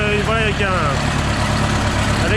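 An old tractor idles in a low, steady chug after a jump start from another tractor with a weak battery, a voice briefly heard over it at first.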